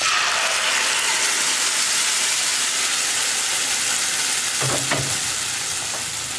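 Ground tomato chutney paste with Kashmiri chili hits hot oil with curry leaves in a pan, producing a loud, continuous hissing sizzle, with a few brief spoon clatters near the end.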